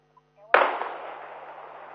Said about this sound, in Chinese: 枪声此起彼落